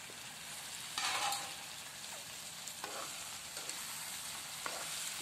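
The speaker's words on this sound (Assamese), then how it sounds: "এতিয়া মই এইখিনি ভালকৈ লৰাই লৈছো যাতে আলু কুমুৰা আৰু মাংসখিনি লগত একেলগে মিক্স হৈ যায়" A curry of potato, pumpkin and meat is stirred in a hot pan, a low constant sizzle broken by a few scraping strokes of the spoon, close and quiet, no one talking.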